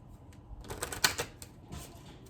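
A few quick riffling bursts of cards being shuffled, crisp and close, with soft pauses between them, during a tarot reading.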